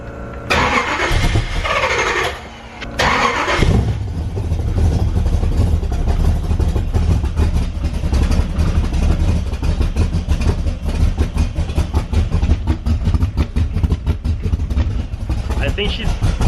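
Z06 Corvette fitted with long tube headers and exhaust, an engine that has not been fired up, cranking and catching into a loud, rough idle close by, with people talking over it.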